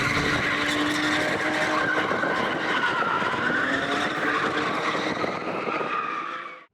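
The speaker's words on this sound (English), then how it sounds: "let's let the actual drifters do some actual drifting." Several cars drifting for a charity event, their tires skidding and squealing with engines roaring close by, continuous and loud throughout against wind, cutting off abruptly at the end.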